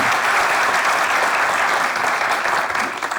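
Studio audience applause for the writers of a Turkish sketch comedy show, a loud, continuous crowd of clapping hands that stays level and eases slightly at the very end.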